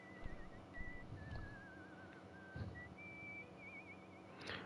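A character in the video game Broken Sword: Shadow of the Templars Reforged whistles a casual, wavering tune in several short phrases over a dense, noisy game background of ambient sound and thuds.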